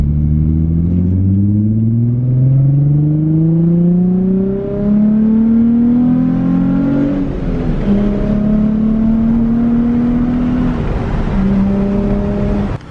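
A Nissan 350Z with an ISR single exit exhaust revs up repeatedly through rising gear-like sweeps, loud and close, with a steady deep exhaust drone throughout and no talking.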